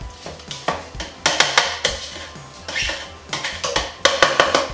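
Sauce frying in oil in a pan, stirred briskly with a utensil that knocks and scrapes in repeated rhythmic strokes over a bubbling sizzle, close and fairly loud, with no speech.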